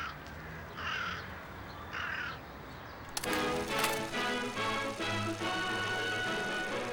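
Crows cawing: a pair of harsh calls early on over steady outdoor ambience, then a busier burst of repeated caws with a faint sustained tone behind them.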